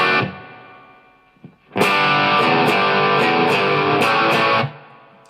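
A heavily distorted electric guitar plays a stadium-rock riff through a wireless system, a short opening note, a brief pause, then a loud sustained chugging phrase of about three seconds with rhythmic accents before it cuts off.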